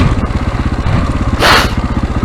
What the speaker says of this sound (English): down another gear, so the engine is also holding me back